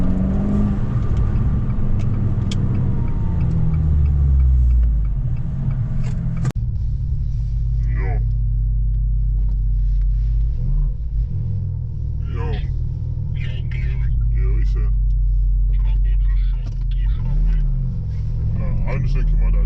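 A BMW car engine running close by, a deep steady rumble with a brief rev near the start before it settles into idle while people talk over it.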